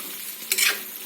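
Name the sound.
eggplant frying and being stirred for pickle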